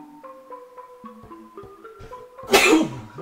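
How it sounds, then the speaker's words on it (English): A single loud, explosive sneeze bursts out near the end, alone, after soft tonal game music from The Legend of Zelda: Link's Awakening remake. "Sneezing."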